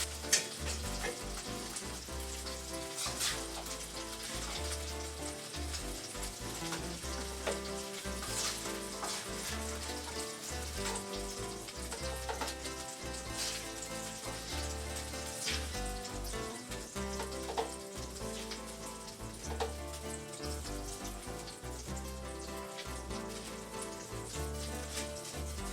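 Wine deglazes a hot pan while cooking chicken pizzaiola, hissing and crackling in a steady sizzle with scattered pops and occasional stirring scrapes, close and continuous with no voices.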